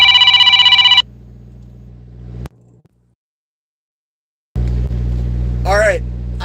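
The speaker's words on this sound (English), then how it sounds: "I just got a phone call after I was complaining about them." A phone rings loudly with an incoming call inside a truck cab for about a second, then cuts off to a low engine rumble, a brief silence, and the rumble returns.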